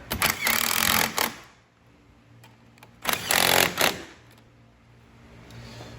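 Bolts are tightened with a 10 millimeter wrench on a Fiat 500 Abarth engine, two loud bursts of rapid ratcheting clatter about a second long each, separated by quieter background hum.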